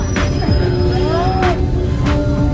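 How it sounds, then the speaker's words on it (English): A tour bus on the Columbia Icefield road screeches with loud, sustained brake squeal while descending a steep slope, the high whine steady and close over a rumbling engine. "And yes, I know the brakes are very loud."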